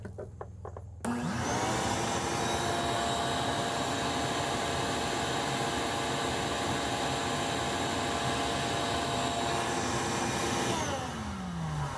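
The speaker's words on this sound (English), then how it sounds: "we'll try the shop vac first and see what we get" A shop vac powered from a Bluetti Pioneer Na sodium-ion portable power station switches on after a short pause and roars steadily and loudly for about ten seconds before winding down at the end.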